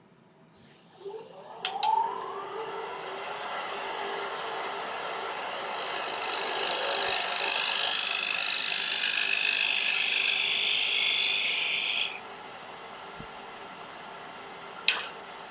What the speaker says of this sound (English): I'm just going to refine that with the little 1-inch scraper